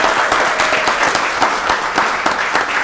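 Dense, steady applause from a meeting audience at a county board of commissioners voting session, honoring leadership certificate recipients, the many hands blending into a loud continuous wash for a few seconds.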